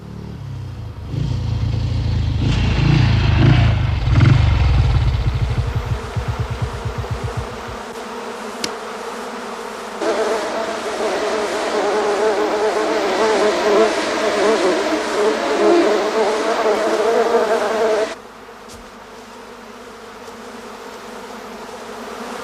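A dense swarm of killer bees hums and buzzes loudly and continuously, the drone shifting in pitch and intensity before cutting off abruptly near the end.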